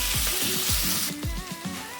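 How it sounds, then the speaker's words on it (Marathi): Chopped tomato and onion sautéing in oil, with a steady bright sizzle and a few low scraping stirs, close and moderately loud, no talking. "आपल्याला टोमॅटो बारीक कट करायचा आहे आणि सुद्धा आपल्याला आता तेलामध्ये थोडा वेळ परतून घ्यायचा"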